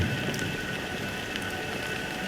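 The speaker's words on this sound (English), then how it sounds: "But it's still raining." Steady rain in the Honkai Star Rail video game, a dense even hiss of falling water that stays level throughout, heard alone without voices.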